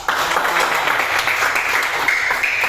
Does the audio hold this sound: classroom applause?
yes